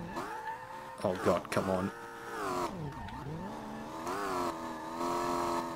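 LS7-swapped Nissan S13 drifting through a tight, bumpy section in SLRR, the engine revving and wailing in rising and falling sweeps, loud and close, with someone talking over it.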